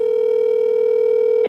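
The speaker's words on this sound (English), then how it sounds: "I feel like if I'm ringing for that long, I'm definitely just calling someone's house." A telephone call rings through with a steady, loud single-pitched tone, held continuously for over a second before cutting off abruptly.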